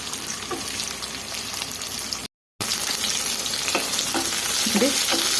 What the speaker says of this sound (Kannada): ಇದೆಲ್ಲ ಚೆನ್ನಾಗಿ ಫ್ರೈ ಮಾಡ್ಕೊಳ್ಳೋಣ